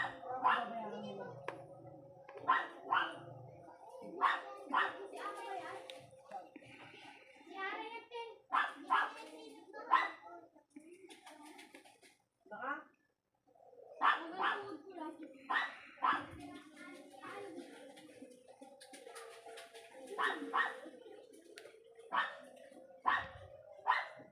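A dog barks repeatedly in sharp bursts, close by, while someone talks throughout and other voices chatter in the background.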